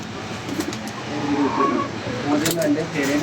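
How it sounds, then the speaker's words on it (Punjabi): Pigeons cooing at a Punjabi pigeon keeper's loft, soft repeated low coos close by, with people talking throughout. "ਲੋ ਜੀ, ਕਬੂਤਰ ਆਉਣ ਲੱਗਾ ਜੇ ਜਿਹਦੀ ਮੈਂ ਗੱਲ ਕਰ ਰਿਹਾ।"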